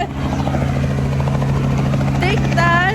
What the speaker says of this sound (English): So the helicopters we're gonna be riding, y'all.